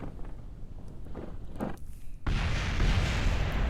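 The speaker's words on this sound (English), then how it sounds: "There's that explosion" Explosion in the Kerbal Space Program game: after some soft thuds and rumbles, a sudden dense roaring burst hits and keeps roaring steadily to the end.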